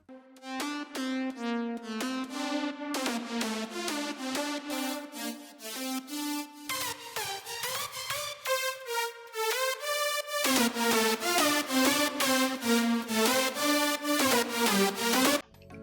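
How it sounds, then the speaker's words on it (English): Future bounce lead melody layering bright pluck synths with a modified saw synth, playing a busy, choppy stepping line with sidechain pumping and held notes; loud and continuous, no voices. "I usually like to have some pluck sounds that work perfectly with sidechain, as well as some kind of modified saw"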